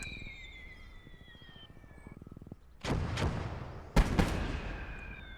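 In the World War II game Their Finest Hour, gunshots crack in a few separate bursts, loud and close, following a quieter rattling stretch.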